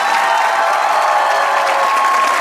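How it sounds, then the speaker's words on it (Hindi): A studio audience on a Pakistani comedy talk show claps steadily, a dense, even wash of applause that carries through the whole moment without a break. "ताली होनी चाहिए हाफिज साहब।"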